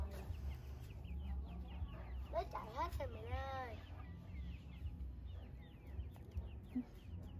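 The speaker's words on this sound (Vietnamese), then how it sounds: "Còn quá trời gà kìa con" A flock of chickens clucks and calls throughout in a rural Vietnamese yard, a low, steady chorus of fowl sounds under nearby voices talking in Vietnamese.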